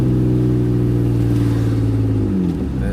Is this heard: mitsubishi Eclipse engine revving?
yes